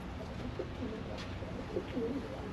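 Racing pigeons in a loft, from an old Belgian line, coo softly in the background amid low ambient noise, with faint, scattered calls and no talk.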